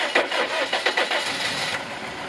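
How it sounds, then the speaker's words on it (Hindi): A Toyota Corolla engine cranks and fires up, with a few stuttering starter bursts settling into a rough, steady idle, heard up close with no talking. "मैं गाड़ी स्टार्ट करता हूँ."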